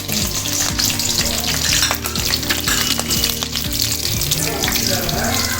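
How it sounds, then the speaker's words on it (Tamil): Green chillies frying with ginger garlic paste in a pan while being stirred, a loud continuous sizzle with scraping spatula strokes throughout, no talk. "பச்சை மிளகாய் சேர்த்து கிளறி வச்சுக்கலாம்."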